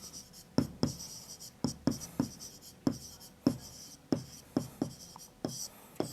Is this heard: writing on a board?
yes